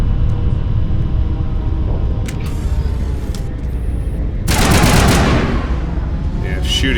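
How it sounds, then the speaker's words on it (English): Rapid automatic gunfire in the Mass Effect video game, fired at the massive ship Sovereign, rattles over a steady low rumble, with a louder, harsher burst of shots near the end. "shooting Sovereign doesn't do any good"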